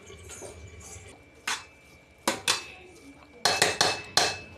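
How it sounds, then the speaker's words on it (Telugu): Metal lids clatter onto a cooking pot while a Telugu rice dish is made, a few scattered clinks and then a quick burst of sharp knocks close by, with no talk. "ఇంకో మూత వేసుకుంటానా, మూత వేసుకుంటా."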